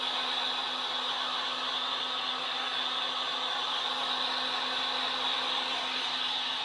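A hair dryer blows steadily and loudly without pause, drying a painting done on cardboard, its constant whooshing hum filling the space with no voices.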